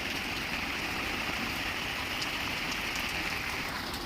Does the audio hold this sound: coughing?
no